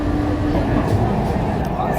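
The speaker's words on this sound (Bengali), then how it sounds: "এই ট্রেনটা চলা শুরু করলো" An underground Kolkata Green Line metro train starts moving beneath the Ganga, a loud steady low rumble and hum filling the carriage, with a voice talking over it.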